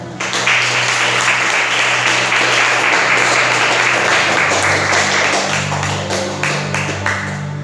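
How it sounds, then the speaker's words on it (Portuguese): A large church congregation applauds steadily and loudly, with dense clapping that continues throughout before thinning slightly near the end. "desocupa as suas mãos e aplauda o Rei da Glória"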